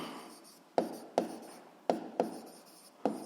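Pen strokes on paper during a physics lesson, a few distinct scratchy taps and short scribbles at an irregular rhythm, close and fairly quiet with no talking.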